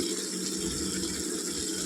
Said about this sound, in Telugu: ఇప్పుడు కొద్దిగా వాటర్ వేసుకోవాలండి